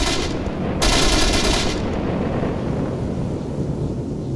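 Heavy automatic gunfire at cars in the video game ARMA 3 roars loudly in a sustained burst, then gives way to rumbling, blustery noise as the shooting stops.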